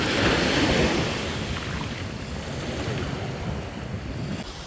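Ocean surf rolls onto a beach in Krabi, Thailand as a steady, loud broadband wash, slightly stronger at the start, with wind buffeting the microphone throughout.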